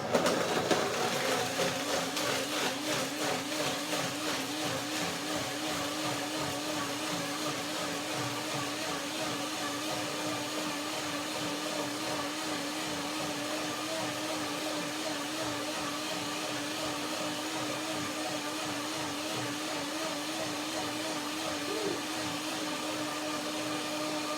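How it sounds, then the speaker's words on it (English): A blender blending blueberry walnut banana milk soup whirs continuously at a steady high pitch, loud and close, running without pause for the full length. "That was the first blending."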